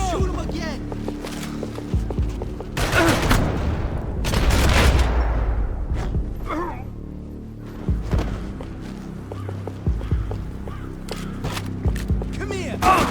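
Gunfire in the action game Max Payne 3: heavy, loud shots and rapid bursts crack and boom close by, with dense clusters of fire giving way to scattered single shots.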